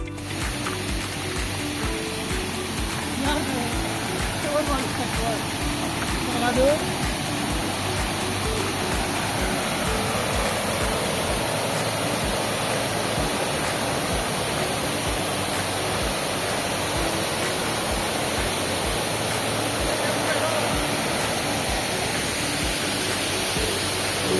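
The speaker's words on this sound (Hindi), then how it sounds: "तो हम चले जाते हैं चलते चलते वाटरफॉल की ओर।" A low-flow waterfall reached after a river crossing sends up a steady broadband rush of falling water, constant and fairly loud with no breaks for the whole stretch.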